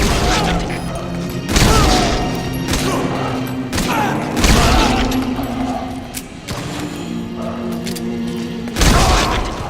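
Rapid gunfire and heavy booming impacts from the video game Metal Gear Solid V as soldiers are shot, loud repeated bursts with crashes and thuds throughout, no voices over them.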